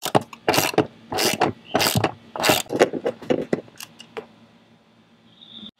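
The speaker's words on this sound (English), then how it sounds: "You're also going to remove the bolt on the left-hand side of the sun visor with the 13 millimeter." A socket wrench loosens the 13 mm bolt holding the sun visor on a Jeep's left side, giving loud, close, irregular bursts of ratcheting and scraping for several seconds before tapering off.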